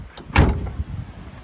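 A 1973 Porsche 914 door with its handles removed is pulled open, giving a short close latch clunk and thump followed by faint rustling, with no one talking.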